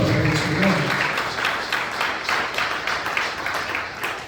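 A church congregation applauding during a service, a broad, steady wash of clapping that fades gradually, with faint voices underneath.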